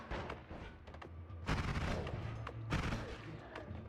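Enemy sniper gunfire in the game Noita: a few sharp shots followed by two louder, heavier blasts with lingering rumble, mid-distance, with no talking over them.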